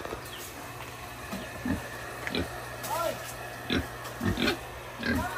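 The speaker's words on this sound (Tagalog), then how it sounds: "Baboy ni Krista" Short grunts from a large pregnant sow recur every second or so, close by, over a steady low hum, with people talking in the background.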